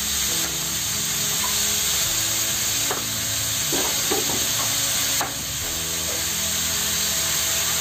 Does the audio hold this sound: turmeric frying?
yes